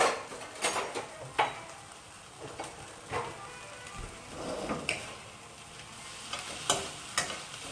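A ginger vegetable stir fry sizzles in a pan while a utensil stirs and scrapes it at an irregular pace, with occasional clinks of cookware nearby.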